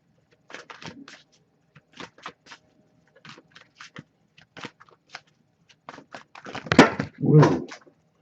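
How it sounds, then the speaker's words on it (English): A deck of oracle cards dropped: scattered light taps and shuffles of card handling, then a louder flurry as the cards fall and spill, all close by with no talk. "Definitely just dropped the deck, so that's not going to help."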